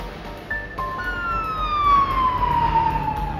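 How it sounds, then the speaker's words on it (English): An emergency vehicle siren wails in a long, falling tone, loud and close over a steady rumble of traffic, with no talking. "Emergency vehicles arrived moments later."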